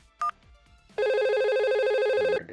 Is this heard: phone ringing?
yes